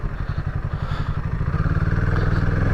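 A motorcycle passes close by on a mountain road between Neoli village and Shangarh meadows in India, its engine rumbling steadily and growing louder and more insistent as it goes by.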